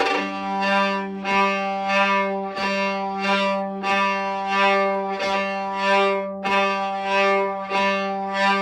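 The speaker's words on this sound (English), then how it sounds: "as I pull the bow across, on the off beat, I would be pulsing" A fiddle plays sustained bowed notes that swell and pulse in a steady rhythm, each stroke leaning into the off beat.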